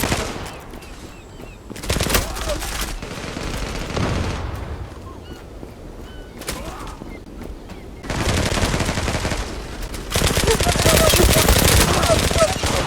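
Rapid automatic gunfire from the online shooter Zula, bursts of loud rattling shots in several stretches, heaviest and most sustained toward the end, with quieter gaps of game ambience between.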